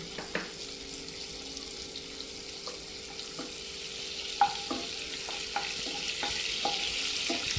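Mustard oil and a little butter heat in a wok, giving a low, continuous sizzle broken by small ticks and light clinks, growing slightly louder toward the end.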